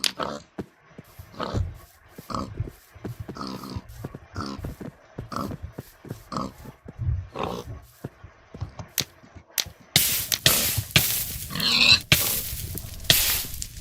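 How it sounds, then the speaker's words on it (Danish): A pig in the Minecraft video game grunts and oinks repeatedly in short bursts while being burned, followed by louder crackling, hissing game effects near the end. "Jeg brænder den her gris til døden."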